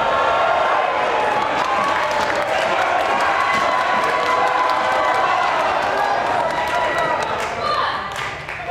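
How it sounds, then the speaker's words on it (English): A crowd of about 400 at a women's wrestling event cheers and applauds throughout, a loud continuous roar of clapping and shouting that fades slightly at the end. "You hear this crowd, 400 plus strong here."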